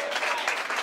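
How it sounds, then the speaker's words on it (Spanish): A brief burst of audience applause at a 2017 written rap battle, dense clapping from a crowd lasting under a second, fairly loud and close. "aplauso grande para Suspiro"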